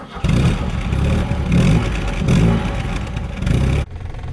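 A 1972 Alfa Romeo GTV engine runs loudly up close with a rough, pulsing rumble and clatter. The revs swell and dip a few times before cutting off abruptly near the end.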